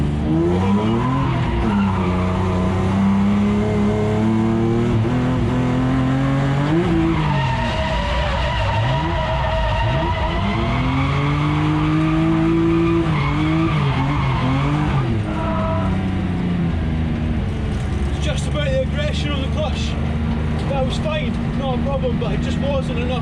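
A BMW E36 M3 skids loudly into a backwards drift entered with a clutch kick, engine revs rising and falling through long tire squeal across the whole stretch, with someone talking over it.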